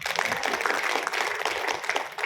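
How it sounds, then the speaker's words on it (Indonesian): An audience at a talk claps together in a brief, fairly faint burst of applause with dense, scattered hand claps throughout. "Yang setuju tepuk tangan dulu."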